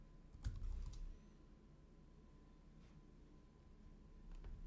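Keys tap on a computer keyboard as a web address is typed, a few quiet, close clicks over a faint room hush.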